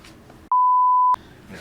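A single steady censor beep cuts sharply over swearing in a spoken conversation, loud and pure-toned for about half a second, with talk before and after it.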